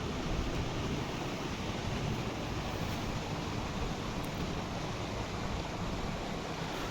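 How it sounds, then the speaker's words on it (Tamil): Small waterfalls pouring over rocks at Aruvikarai near Kanyakumari, a steady broadband rush of flowing water, constant and fairly close, with no voices. "இந்த மாதிரி தண்ணி சின்னதாக பாயிற நிறைய சின்ன சின்ன குட்டி குட்டி ஃபால்ஸ் நிறையவே இருக்கும்"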